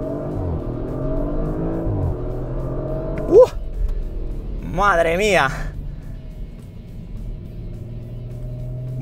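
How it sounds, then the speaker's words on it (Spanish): An Audi RS 4 Avant or RS 5 Coupé Competition Plus engine pulling hard at full throttle from a stop, a rising rev sweep with a gear change midway, heard from inside the car under an excited exclamation. "paramos, acelero a fondo"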